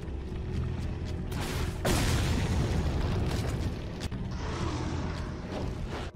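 A volley of gunfire in a modded video game called Rising of Evil, a dense, continuous rumbling barrage of booming shots with a sharp, heavy burst partway through, sustained throughout at moderate loudness.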